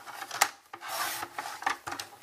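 Designer Christmas print paper being trimmed into strips on a paper trimmer: short rasping slides of the blade, one sharp snap near the start and another cutting stroke later, close and fairly quiet, no talking.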